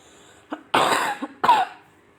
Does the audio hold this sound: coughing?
yes